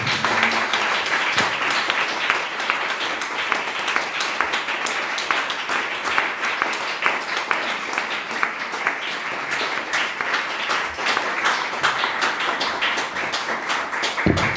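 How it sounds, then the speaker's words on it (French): A lecture audience bursts into sustained applause at the end of a talk on the Shroud of Turin, a dense, even wash of many hands clapping from start to finish. "quand les gens applaudissent à la fin de cette conférence"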